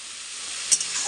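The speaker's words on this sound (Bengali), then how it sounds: "এখানে হচ্ছে লাল শাক ভাজা।" Red amaranth greens fry in oil tempered with garlic, giving a loud continuous close sizzle with a brief spatula stir partway through.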